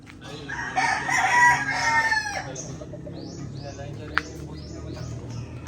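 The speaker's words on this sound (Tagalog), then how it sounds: "Oh, ang daming manok din eh." Roosters crow and chickens cluck at a rural spot in Marinduque, several calls overlapping in a busy, moderately close chorus, with a few sharp crows standing out against low background noise.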